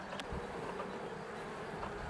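Honey bees buzzing in an opened hive during a swarm check, a continuous soft hum of many bees close by with a brief louder buzz near the start.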